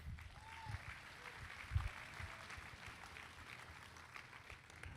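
Audience applause at a market hog show in San Antonio, a steady patter of clapping from a crowd filling the hall, moderately loud and continuing throughout.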